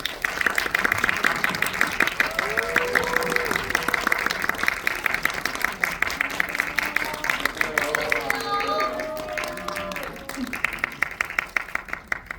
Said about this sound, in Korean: 큰 박수로 환영해 주세요